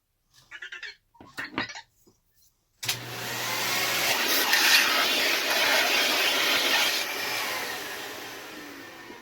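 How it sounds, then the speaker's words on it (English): A vacuum cleaner switches on abruptly after a few short knocks and clatters, then runs as a steady loud whoosh while the remote-control Redcat Kaiju monster truck is being torn down on the bench. "We'll get the vacuum out again, make sure we don't suck up any screws."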